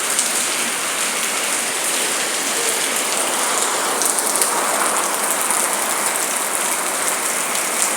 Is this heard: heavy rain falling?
yes